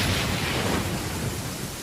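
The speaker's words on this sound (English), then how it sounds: "Uh-oh! Lightning storm!" Low rumbling thunder from a lightning storm in the video game Genshin Impact, a steady broad roar that fills the whole moment without breaking, heard alone with no talk over it.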